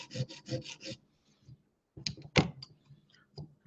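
A CRKT Ignitor knife with an 8Cr13MoV steel blade is stroked across a sharpener, giving a quick series of soft, rhythmic scraping passes followed by a few quieter, scattered rasps.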